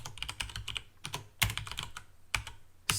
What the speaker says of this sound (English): I'm sorry I'm bashing my keyboard, but my keyboard is a little bit broken